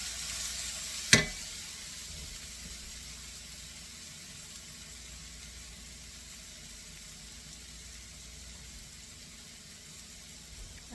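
Ground beef for sloppy joes goes into a pan, marked by a sharp hit early on, followed by a steady, fairly quiet frying sizzle that continues to the end.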